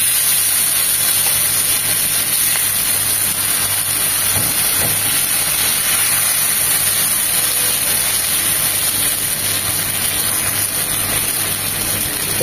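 Dosa batter sizzles steadily on a hot oiled tawa as a spoon spreads it thin, giving a loud, continuous hiss with no speech.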